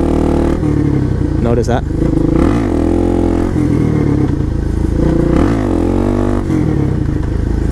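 A Suzuki DRZ supermoto motorcycle revs hard in first gear for wheelies, two loud rising engine surges over a rumbling idle nearby, with someone briefly speaking.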